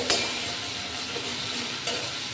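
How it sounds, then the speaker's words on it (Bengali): Masala paste stirred into a potato and soybean vegetarian curry in a pan gives a steady close sizzle, with two sharp scraping stirs of the spoon against the pan and no talking. "সুন্দর করে কষে নিই"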